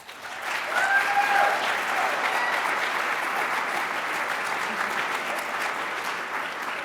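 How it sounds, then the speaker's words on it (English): Audience at a school board of education meeting giving a round of applause, steady moderate clapping from a room of people that rises quickly and carries on evenly, slightly fading toward the end. "How about a big round of applause, Mr. Jacob Page."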